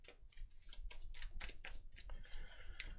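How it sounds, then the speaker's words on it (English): A deck of game cards riffle-shuffled up close during a solo tabletop game, a run of quick crisp rattling bursts and flutters at moderate level with no talking. "And now I'm going to shuffle my deck"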